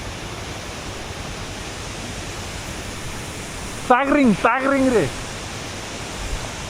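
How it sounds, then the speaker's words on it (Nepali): Tangring waterfall beside the mountain road to Manang, a steady broad roar of falling water throughout, with a voice speaking briefly over it partway through. "मनाङ आउनुभयो भने चाहिँ ताङरिङ झरना चाहिँ यहीँ रहेछ"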